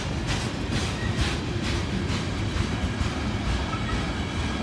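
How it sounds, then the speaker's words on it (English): A train rumbles past close by, its wheels clacking rhythmically over the rails in a steady, dense roar. "I sure hope this train has a DPU"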